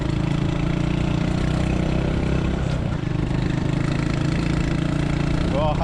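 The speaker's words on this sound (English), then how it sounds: "Ooh, that exhaust is noisy." A Honda Super Cub motorcycle with a noisy aftermarket exhaust runs on a first ride while towing a trailer. It gives a steady, buzzy, lawnmower-like drone, loud and close throughout.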